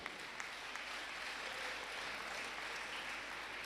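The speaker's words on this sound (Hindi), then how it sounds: "आपकी तालियां बहुत कम बज रही हैं।" An audience at a Jain religious gathering in Indore, India applauds in a faint, distant, dense wash of clapping that holds steady throughout with no talk.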